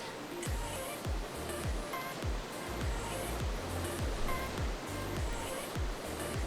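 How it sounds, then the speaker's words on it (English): A steady rushing roar of water from a waterfall in a video game fills the whole stretch, broad and continuous with faint rhythmic low thuds of game music beneath. "The waterfall makes noise, but the ocean doesn't."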